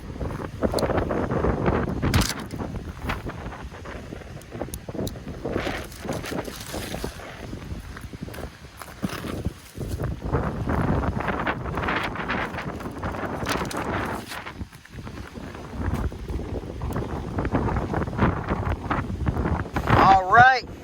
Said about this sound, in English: Sorry it's so windy